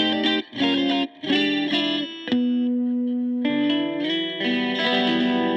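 A Reverend Airwave 12 electric guitar plays bluesy phrases with bends and a long sustained note, tone thickened by effects and light distortion, close and alone.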